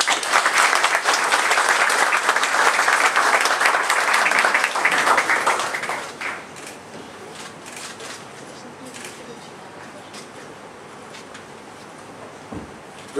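Warm applause rings out at an outdoor cornerstone-laying ceremony in Gdańsk's Stara Oliwa, a loud dense clatter of many hands for about six seconds, then dropping abruptly to a quiet murmur with a faint voice and stray sounds.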